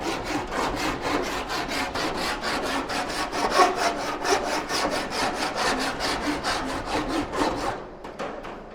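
Sanding block worked by hand over a weld on the metal front end of an Aston Martin DB6, a fast, even back-and-forth rasping of about three strokes per second that stays close and loud until it stops.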